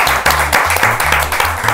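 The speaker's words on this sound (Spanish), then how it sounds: "Un aplauso para Pichona." Applause and clapping from a studio audience on a Spanish-language comedy show, loud, brief and steady.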